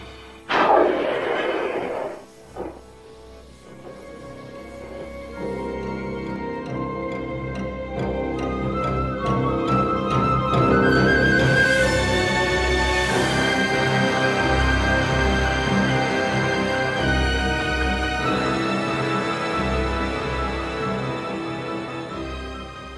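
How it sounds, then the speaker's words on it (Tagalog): Giant worms crawling in a cave in a fantasy audio drama: an eerie, shifting mix of ticking clicks, dull thuds and rising warbling tones over dramatic music, moderately loud and continuous. "Kakaiba ang tunog ng mga dambuhalang uod na yan!"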